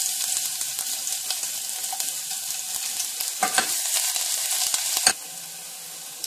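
Garlic hits hot oil in a pan for Castilian garlic soup, a loud close sizzle with scattered pops and a couple of sharp utensil knocks before the hiss drops to a softer steady fry.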